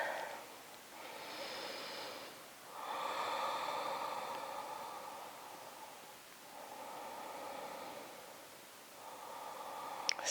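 Slow, audible breaths during a vinyasa yoga practice swell and fade in long, even cycles, close and soft against a quiet room.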